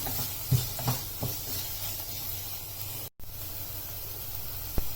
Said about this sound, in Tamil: இப்போ நம்ம காய்கறிகளை சேர்த்துடலாம் இப்போ அதை நல்லா மிக்ஸ் பண்ணி வச்சுக்கலாம்